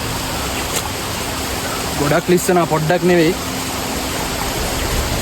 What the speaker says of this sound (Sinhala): උඩ තියෙන ජල විදුලි බලාගාරයෙන් වතුර ඇරියට පස්සේ